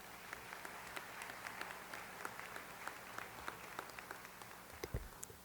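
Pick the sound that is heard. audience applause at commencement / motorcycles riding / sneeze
audience applause at commencement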